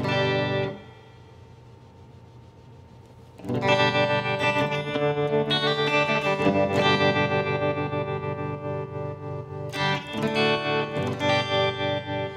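Electric guitar played through the iRig amp app with reverb and light tremolo; a sustained note rings alone, then fuller strummed chords swell and shimmer with a wavering, echoing tail.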